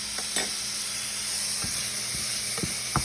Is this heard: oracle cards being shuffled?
no